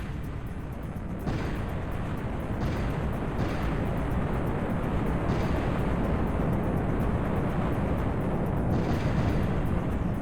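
Fireworks in the Machines: Wired for War game go off as a dense, continuous rumbling roar of blasts, loud and steady for about ten seconds with no voices.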